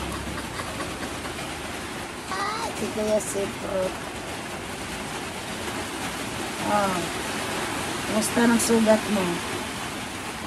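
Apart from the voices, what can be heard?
heavy rain outside a shop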